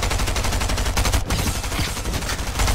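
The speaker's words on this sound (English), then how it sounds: "Oh, I'm getting shot at" Sustained rapid gunfire aimed at the player in the video game Fortnite, loud and close, a dense rhythmic stream of shots with a brief gap midway, no voices over it.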